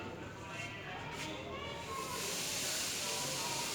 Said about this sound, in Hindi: अब हमने ऑयल में इलायची डाल दी है और अब हम डालेंगे सूजी।